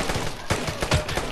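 Gunfire in the video game Vigor, a rapid series of sharp shots spaced irregularly, fairly close and loud, with no talk over it.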